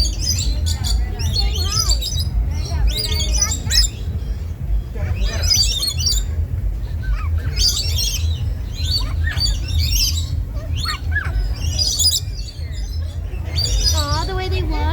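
Birds at an aquarium chirp, tweet and squawk in frequent loud bursts close by, over a steady low rumble of the indoor space, with people talking between the calls.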